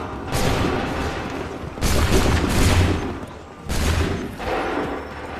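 Massed musket volleys fired on command in Assassin's Creed 3, three loud broadband crashes of rolling gunfire with short gaps between them, each volley sustained for about a second.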